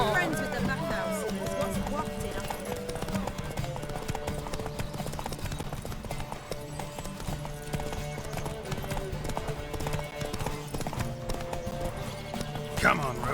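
In the video game Witcher 3 Wild Hunt, a horse gallops with steady, rapid hoofbeats that dominate the mix, layered over game music and ambience, with a brief snort near the end.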